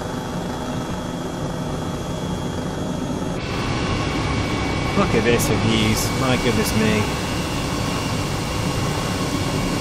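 H135 helicopter in Microsoft Flight Simulator, flown over Tuscany: a steady turbine and rotor drone runs throughout and swells louder midway, with someone talking over it.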